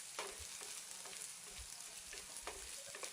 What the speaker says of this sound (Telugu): కొంచెం ఆవాలు, జీలకర్ర వేసుకొని వేయించుకోవాలి. తర్వాత కొంచెం కరివేపాకును కూడా వేసుకొని వేపుకోవాలి.